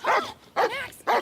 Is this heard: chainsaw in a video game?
no